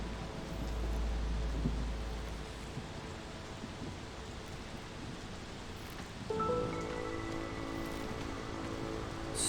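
Steady broadband rain hiss of a storm in a forest-survival video game, continuous and fairly loud, with a low rumble early on and a tonal layer of game music entering partway through.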